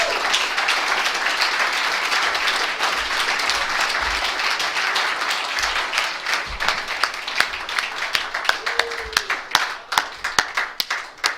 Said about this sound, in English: Let's give another big round of applause to Curtis.